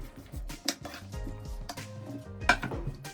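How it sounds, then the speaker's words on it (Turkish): A wooden spoon scrapes and knocks around inside a pot of vegetables and olive oil, with soft clinks and shuffling, close up. "Hepsini tahta kaşıkla karıştırın"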